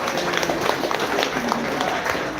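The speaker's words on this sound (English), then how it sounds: "a round of applause" Steady applause from a crowd fills the space, dense and continuous clapping at a fairly even level throughout.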